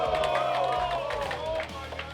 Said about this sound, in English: The crowd is crazy for both players